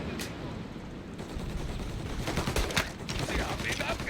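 Gunfire in the video game Mafia, with bursts of sharp shots cracking over a busy background, growing denser and louder toward the end while voices shout in the game.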